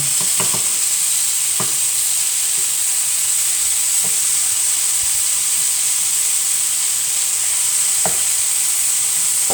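Beef pieces frying in hot oil in a pan, giving a steady close sizzle and hiss throughout with a few brief clinks of stirring, no talk.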